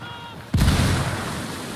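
A frag grenade blast in a tactical shooter game lands as one sudden loud boom, then a long rumbling decay under faint game ambience.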